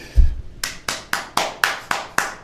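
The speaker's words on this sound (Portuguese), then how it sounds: "Senhoras e senhores, com vocês, uma salva de palmas para Refizik." Seven sharp, evenly spaced hand claps ring out close by after a soft thump, greeting Rey Physique at a podcast introduction.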